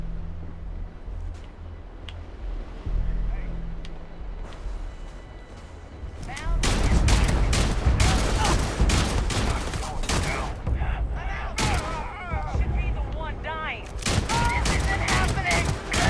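Rapid gunfire from a weapon in the video game Starfield erupts in dense, loud bursts with brief pauses, following a quieter stretch of ambient game sound.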